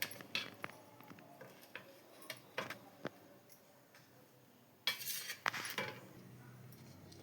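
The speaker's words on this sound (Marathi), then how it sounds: "असे वडे थंड झाले की ह्याला कट करून घ्यायचं. अशा पद्धतीने कट करायचं." A knife slices cooled, steamed kothimbir vadi pieces on a cutting surface, making faint, sparse taps and clicks with a couple of louder scraping knocks near the end, close and quiet, with no talk.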